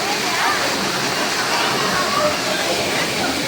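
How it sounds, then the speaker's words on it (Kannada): Apsarakonda Falls near Honnavar sends up a dense, unbroken roar of falling water, loud and steady from start to finish, filling the whole scene with rushing white noise. "ಗೈಸ್ ನೋಡಿ ಹತ್ತದಿಂದ ಚೆನ್ನಾಗಿ ಕಾಣಿಸ್ತಾ ಇದೆ ಫಾಲ್ಸು"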